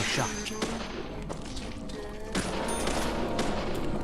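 Gunfire lands a headshot in the game Deadly Premonition: The Director's Cut, sounding as a sharp burst of shots and thuds over a busy, dense game soundtrack, with several loud hits spread across the stretch.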